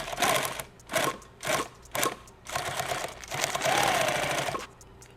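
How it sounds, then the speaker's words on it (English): Sewing machine needle punching through thick webbing while a party bag is built, running in short loud bursts separated by pauses, then one longer stretch of stitching. "That's the needle going through."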